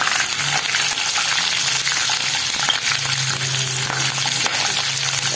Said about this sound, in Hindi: उनको जस्ट हल्का सा फ्राई करेंगे।